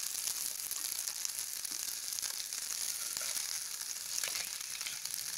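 Constant bright sizzle of food deep frying in hot oil for kodigudu merumu, a steady close crackling hiss with faint pops and no voices.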